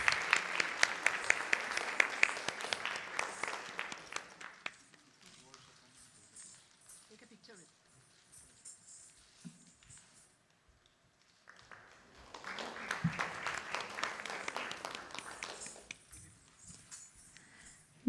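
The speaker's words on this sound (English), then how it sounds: "Let us give a big round of applause for Ms." Audience applause for a speaker at a felicitation dinner, two bursts of loud dense clapping separated by a quieter stretch where a voice speaks over the room.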